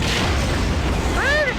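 Missiles explode in the Wing Commander: Standoff space combat game, producing a dense, continuous booming roar with heavy rumble and a rising tonal whoosh near the end, loud and close.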